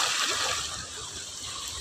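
High-tide seawater at night surges and splashes near a shoreline home in a steady, loud wash of noise that fills the clip, with no voices over it.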